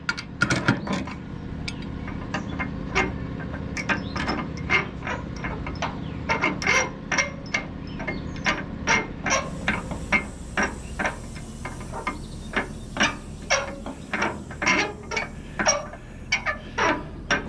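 Bolts come off a sawmill belt cover with a ratchet, making rapid, sharp metallic clicks in quick bursts that repeat steadily, close up with no talking.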